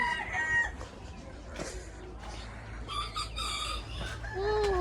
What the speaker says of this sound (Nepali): कति ठुल्ठुलो भालेहरू रहेछ।